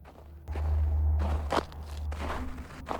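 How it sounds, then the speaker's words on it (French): Footsteps move through an abandoned house. Several distinct, close steps thud and creak on the floor in an irregular rhythm over a low hum. "Il y a juste un bruit de pas, ne vous inquiétez pas."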